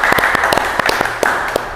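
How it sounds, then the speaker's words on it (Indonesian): An audience claps in welcome for a guest, a brief burst of irregular, moderately loud hand claps with a crisp, scattered rhythm. "Tepuk tangan untuk Mr. Puisi, teman-teman"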